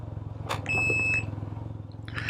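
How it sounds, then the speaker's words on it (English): A 2022 Can-Am Ryker Sport three-wheeler beeps when shifted into reverse, a high steady electronic tone sounding twice over the low idling engine rumble, close by. "it beeps, and the emergency flashers and the tail lights go on"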